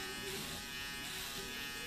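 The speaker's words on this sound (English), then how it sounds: "I love this foil shaver" A foil electric shaver buzzes steadily and close-up as it cuts short hair during a wave haircut, a continuous dense whirring hum with no break throughout.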